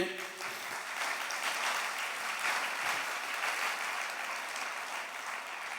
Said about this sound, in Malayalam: ഒന്ന് കൈയുയർത്തി കൈയടിച്ചേ